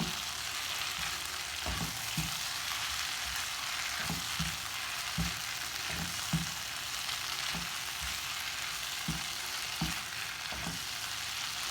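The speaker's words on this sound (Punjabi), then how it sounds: "5 ਮਿੰਟ ਇਹਨਾਂ ਨੂੰ ਅਸੀਂ ਇਸੇ ਤਰ੍ਹਾਂ ਹੀ ਹਿਲਾਉਂਦੇ ਹੋਏ ਪਕਾਵਾਂਗੇ ਚੰਗੀ ਤਰ੍ਹਾਂ" Bitter gourd, potato and onion stir-fried with spices: a steady soft sizzle under regular spatula knocks and scrapes against the pan, evenly spaced every second or so, with no voices.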